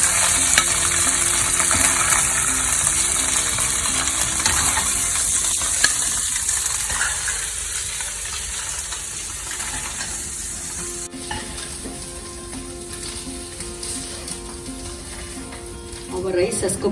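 Tofu pieces frying in hot oil give a steady, close sizzle with occasional stirring scrapes, the bright crackle easing somewhat toward the end.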